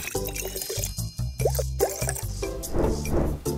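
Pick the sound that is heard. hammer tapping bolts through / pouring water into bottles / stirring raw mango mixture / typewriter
pouring water into bottles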